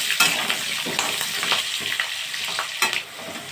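Chandramukhi potatoes frying until reddish in a pan, a continuous close sizzle broken by irregular stirring scrapes and knocks, with no voices.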